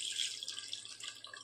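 Water poured into a cooking pot of chicken biryani gravy makes a brief, faint trickling splash, heard alone for about a second and a half.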